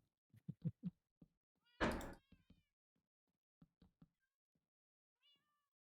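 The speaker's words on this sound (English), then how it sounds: "What I do know is there's a lot of kitty noise." Several house cats meow in short separate calls, with one louder, longer meow near the middle and a faint high cry at the end, close by and clear against quiet.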